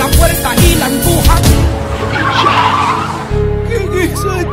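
A car speeding in and skidding to a stop, a loud tire screech sweeping over a dense, noisy background, with a steady engine drone continuing afterward.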